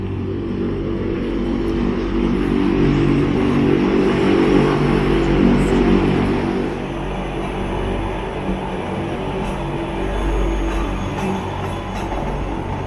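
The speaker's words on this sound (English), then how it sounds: "that is the sound of the train we've got to jump on." Mountain train in Wengen, Switzerland, a steady low rumbling drone heard from nearby, constant and fairly loud for the whole stretch, easing slightly past the midpoint, with no talking.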